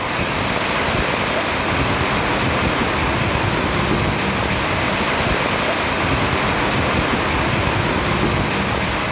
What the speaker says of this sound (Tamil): செங்கல்பட்டு மாவட்டம் மதுராந்தகத்தில் சூறைக்காற்றுடன் கனமழை வெளுத்து வாங்கியது